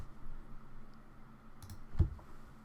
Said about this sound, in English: just click on it and delete